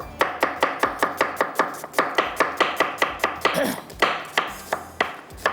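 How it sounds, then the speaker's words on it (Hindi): An onion chopped finely with a knife on a board, a fast, even run of sharp close knocks roughly four per second, briefly pausing mid-way, with no speech. "1 प्याज को बारीक चॉप करेंगे"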